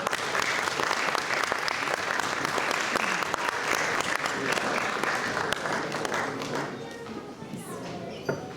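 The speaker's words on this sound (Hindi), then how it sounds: "ख़वातीन और हज़रात आपकी भरपूर तालियों में तशरीफ़ लाते हैं जनाब तारिक करनी साहब।" An awards ceremony audience in Hounslow applauds at length, dense clapping that fades slightly toward the end.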